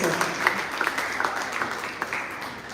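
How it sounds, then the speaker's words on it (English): Audience applause welcoming the first judge at an RDG Public School event, a steady wash of clapping from a crowd lasting the whole stretch, moderately loud and even, with no pauses. "A big round of applause for our very first judge"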